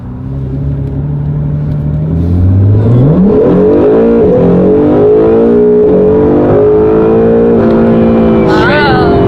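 A modified Mitsubishi Evo running on pump gas accelerates hard from inside the car, its engine note climbing through a long, loud pull with a gear change, as a voice speaks briefly near the end.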